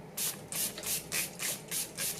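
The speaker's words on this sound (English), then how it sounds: "Now I'm just gonna drown myself in some setting spray." Six quick bursts of a makeup setting spray bottle pump in an even rhythm, each a close, breathy hiss separated by short pauses.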